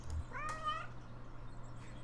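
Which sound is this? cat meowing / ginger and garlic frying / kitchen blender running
cat meowing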